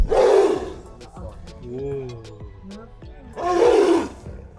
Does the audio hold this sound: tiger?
yes